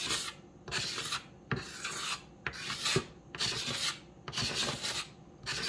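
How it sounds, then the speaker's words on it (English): A tool scrapes the oxidized layer off old, faded plastic in regular back-and-forth strokes, each a loud rasping pass separated by brief pauses, close up and without talk. "Get all this stuff scraped off."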